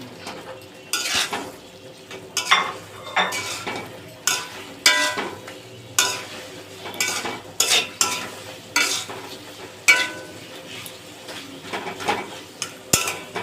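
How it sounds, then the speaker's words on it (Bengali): Pointed gourd (potol) stir-fried with spice masala in a pan, rhythmic scraping and clinking of a spatula against metal over a soft background sizzle, close and steady with no speech. "মশলার সাথে পটলটা কষিয়ে নিয়েছি।"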